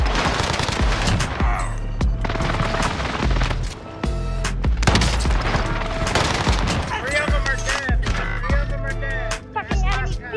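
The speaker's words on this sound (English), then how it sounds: "Airstrike incoming. Be aware." Gunfire and explosive blasts from a Warzone Pacific match run dense and loud with no gaps, sharp repeated cracks layered over heavy low rumble, and a player's voice speaks briefly among the shots.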